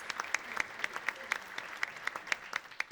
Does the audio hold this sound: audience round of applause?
yes